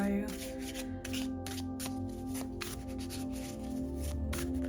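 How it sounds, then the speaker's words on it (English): Thoth tarot cards being shuffled repeatedly, a steady run of crisp riffling bursts up close, with a soft musical tone humming underneath. "The beautiful shuffling ability of this tarot."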